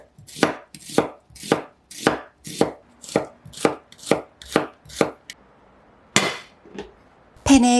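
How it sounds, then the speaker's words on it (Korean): Loud, close knife strokes slice a halved onion into thin strips on a board, about a dozen sharp rhythmic chops, then a pause and a few scattered knocks and clinks at the end. "양파는 반으로 자른 다음 채 썰어주시고요."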